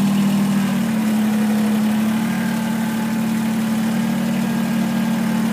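A 2019 Kubota BX2380 sub-compact tractor engine runs at a steady idle, a loud, close, unbroken diesel drone with a strong low hum and no talking.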